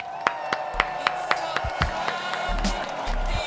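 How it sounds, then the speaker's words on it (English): Applause and cheering from a small audience for a guest on a Detroit talk show, starting with a few sharp separate claps, then spreading into louder, denser clapping with voices mixed in. "Give him a round of applause"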